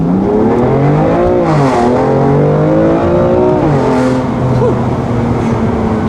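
A remapped BMW M2 Competition pulls hard through first and second gear, engine note climbing loudly, dropping briefly at the shift, then rising again, heard from inside the car with no talk.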